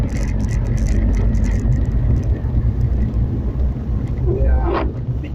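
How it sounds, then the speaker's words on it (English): A big truck passes close by on a rural mountain road to Cotahuasi in Arequipa, Peru, during rainy weather, producing a loud, continuous low engine rumble and road roar with voices heard over it. "Yeah, big truck."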